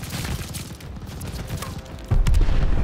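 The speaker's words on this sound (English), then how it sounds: "They're sending mortar shells." Mortar shells exploding in a Call of Duty: Vanguard Team Deathmatch on the Casablanca map, a dense run of loud blasts and gunfire crackle with a heavier boom near the end.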